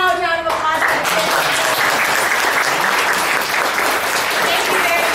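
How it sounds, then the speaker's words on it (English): Audience applause for the kids at the close of a show, a loud, dense burst of clapping that starts after a brief spoken moment and holds strongly for about five seconds. "Can we get one nice loud round of applause for the kids?"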